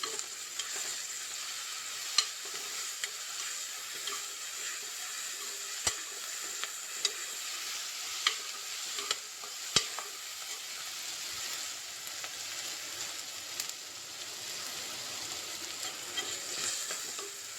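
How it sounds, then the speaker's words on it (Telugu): Ginger garlic paste fries in a pan for an ivy gourd and tomato curry, a steady close sizzle broken by frequent sharp clicks and scrapes of a spoon stirring against the metal, with no voices. "కొంచెం బ్రౌనిష్గా వేగగానే అల్లం వెల్లుల్లిపై పేస్ట్ వేయాలి"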